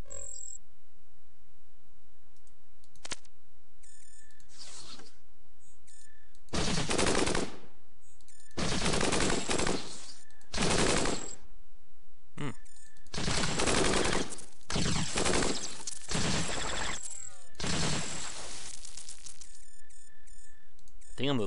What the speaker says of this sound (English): they're shooting the wall out